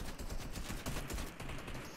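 Rapid game gunfire from a French battle royale shooter match, a dense continuous burst of automatic shots filling the whole moment at moderate loudness with no talk over it.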